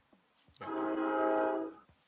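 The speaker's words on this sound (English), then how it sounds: "Oh shit, watch out! Got a fucking train coming your way." A train horn in a video game sounds one sustained, steady blast lasting over a second, fairly loud and close, following a couple of faint clicks, with no talking.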